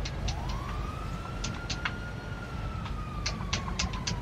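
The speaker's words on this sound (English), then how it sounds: "I hear cops near." Police siren in a video game wails faintly in the distance, one long sliding tone over steady low engine rumble, with scattered short clicks and taps.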